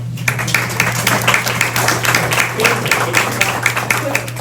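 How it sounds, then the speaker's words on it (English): An audience at a county court's DUI session applauds a guest, moderately loud scattered clapping over a constant low electrical hum, continuing evenly throughout. "So big round of applause for Brian"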